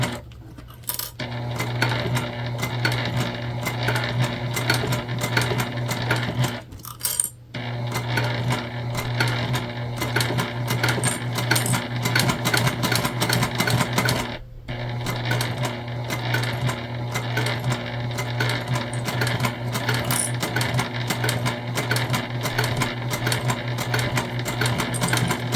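A home sewing machine topstitches a tote bag through heavy Decovil interfacing, its motor whirring loud and steady with a rapid needle clatter, pausing briefly twice before running on.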